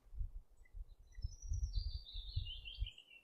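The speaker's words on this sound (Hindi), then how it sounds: "पैरट को हम हिंदी में तोता कहते हैं।" A parrot gives a sliding, squeaky chirping call, fairly faint and high, over a low, uneven rumbling background, with no talking.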